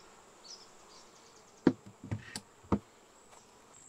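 Honey bees hum steadily around an open beehive during a hive inspection, with a few sharp wooden knocks and taps as the hive is put back together.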